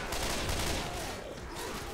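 Dense, sustained gunfire from a Left 4 Dead 2 co-op round, a loud continuous burst of rapid shots filling the whole stretch with no clear pauses.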